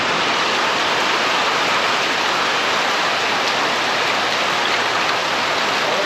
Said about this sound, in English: Started raining again heavily, random showers of heavy and light rain.